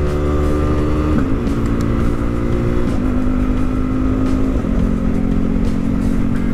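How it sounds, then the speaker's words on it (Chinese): A Yamaha R15 V4 motorcycle pulls hard under acceleration, its steady engine drone stepping down in pitch a couple of times as quickshifter upshifts go through without the clutch, loud and close throughout. "有没有一个连续的进档快排，不用拉离合"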